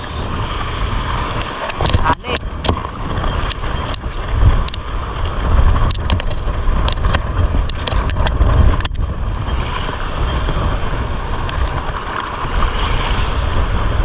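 Strong coastal wind at Calumbuyan, Calatagan, Batangas, during handline fishing, roars steadily into the microphone, buffeting loudly with gusts and occasional sharp knocks, broad and continuous from start to finish.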